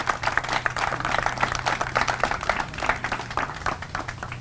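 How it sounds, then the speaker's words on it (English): Steady applause from an outdoor crowd at a playground unveiling in Corcoran Park, dense clapping sustained throughout with a low hum underneath. "Can we just start by giving them all a round of applause?"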